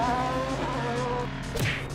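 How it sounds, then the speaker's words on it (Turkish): In a Roblox Hot Wheels racing game, a fast car's engine drones steadily, then a sharp skid or squeal cuts in near the end. The sound is close and loud, with no talk. "Araba çok hızlı arkadaşlar."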